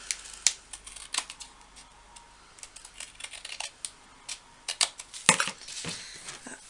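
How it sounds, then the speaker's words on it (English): Scissors trim paper for a mini album, with irregular crisp snips and papery rustles close by, quieter at first and growing busier toward the end, including one sharp louder snip; no one speaks. "So I'm just going to trim that down."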